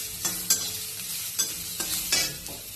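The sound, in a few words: onion being stirred and fried in a kadhai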